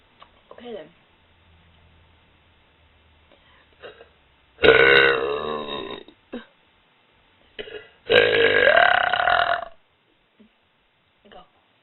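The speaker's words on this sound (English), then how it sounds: "I laughed and burped at the same time." Two loud, drawn-out human burps a few seconds apart, each low and gurgling with a rising tail, with quiet breathy vocal sounds and small clicks between them.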